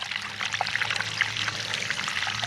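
Clear groundwater pours steadily out of a field drainage tile outlet into a ditch, a continuous close splashing trickle with no talking.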